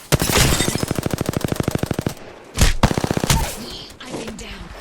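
Rapid automatic gunfire in the video game Apex Legends, a fast evenly spaced burst lasting about two seconds, then a few heavy louder shots and a trailing echo, with brief voices in between.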